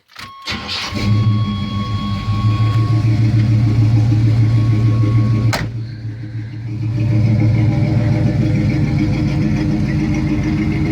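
A 1984 Chevy C10 pickup engine cranks and fires up, then runs at a loud, steady rumbling idle close by, briefly dipping before picking back up.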